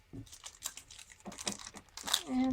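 Thin glassine paper crinkles and crackles in a few short, uneven bursts as a paper bag is folded down, close and fairly quiet.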